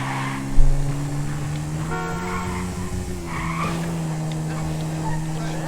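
Motorcycle engine in GTA 5, a steady droning tone that shifts in pitch as the bike rides along, with skidding tire noise and a brief thump near the start.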